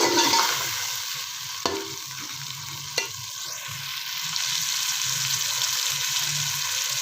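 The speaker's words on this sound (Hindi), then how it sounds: "ये दालचीनी, छोटी इलायची, बड़ी इलायची, लौंग और हरी मिर्चें, ये सारा कुछ आपने इकट्ठा ही साथ डाल लेना और मसाले की भुनाई करनी है" Whole cinnamon, green and black cardamom, cloves and green chillies fry together in hot oil, a steady close sizzle with a couple of sharp utensil clicks and stirring sounds.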